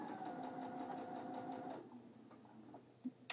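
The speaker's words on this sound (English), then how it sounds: "I'm going to pivot it to stitch the end closed." A sewing machine stitches the end of an apron closed, running close and steady with a rapid mechanical hum and needle ticking, then stopping, followed by a few light clicks and handling sounds.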